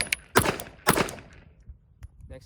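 A Sig P365 pistol fitted with a Parker Mount Machine compensator fires 115 grain ammunition, giving two sharp, loud shots about half a second apart with short ringing tails, then fainter clinks.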